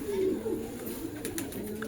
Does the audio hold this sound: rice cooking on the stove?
no